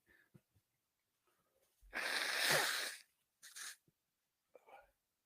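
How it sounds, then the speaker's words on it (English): A sick man blows his nose: one long, loud, breathy honk lasting about a second, then a shorter second blow, close to the mic in a quiet room. "Yeah, I just gotta blow my nose."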